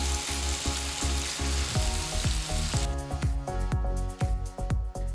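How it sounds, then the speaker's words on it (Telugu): Marinated fish pieces fry in a hot pan with a loud, steady sizzle and crackle, broken by repeated sharp taps and scrapes of a utensil against the pan. "నేను ముందుగా మ్యారినేట్ చేసి పెట్టుకున్న ఫిష్ పీసెస్ ని వేసి ఫ్రై చేయబోతున్నాను."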